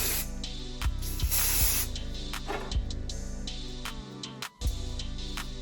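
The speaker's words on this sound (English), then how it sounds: "And I'm just gonna spray a little bit on top of it as well" Ebin adhesive spray hisses in short and longer bursts from a nearby can onto a wig's HD lace closure during a glueless install, steady and close, with no talking.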